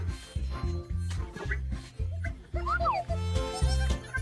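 A dog barks in repeated short bursts at a quick, uneven rhythm, fairly close and clear, mixed with higher yelping tones.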